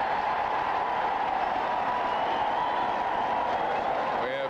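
A stadium crowd at a 1986 Cardinals at Giants NFL game gives a steady, distant roar of voices and cheering that holds at an even level without a clear peak.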